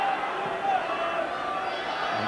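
Home supporters at a Norwich City versus Spurs football match give a broad, sustained roar of crowd noise, steady and distant beneath a commentator's voice.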